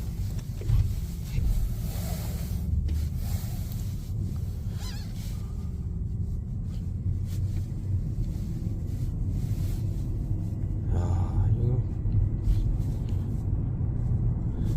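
A car engine idling steadily with a low, throaty rumble, continuous and close, with some wind buffeting the microphone.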